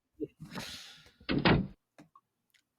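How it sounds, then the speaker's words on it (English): A door closes with a broad rattling swing, then a solid thump, followed by a couple of faint clicks and knocks. "Oh man, a door closed."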